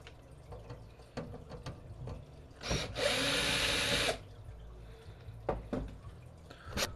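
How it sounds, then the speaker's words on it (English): A power drill whirs in one steady burst of just over a second while opening a computer, surrounded by quieter clicks and handling noises. "Got my power drill here."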